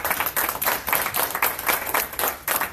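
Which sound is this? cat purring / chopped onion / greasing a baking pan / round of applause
round of applause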